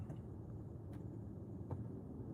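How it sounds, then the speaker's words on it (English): A steady low engine rumble idles continuously, with a couple of faint clicks rising briefly above the drone. "I think it's just the engine running."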